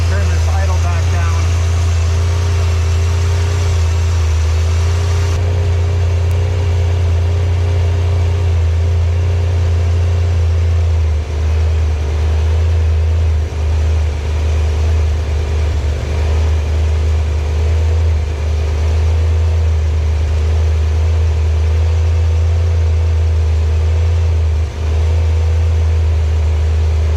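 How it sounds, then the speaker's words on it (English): A 1986 Pontiac Trans Am V8 with a fuel starvation fault idles in a steady, loud low rumble that holds evenly throughout, with a brief rise in revs near the start. "That's the best we've had this thing idling."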